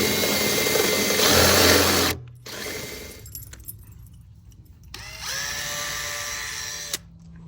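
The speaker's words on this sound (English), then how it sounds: "you know, I'm drilling my holes" A power drill bores holes in angle iron for storage on a garden tractor mower outdoors: a loud whining burst, a shorter second run, a quiet pause, then a third steady whirring burst that stops abruptly.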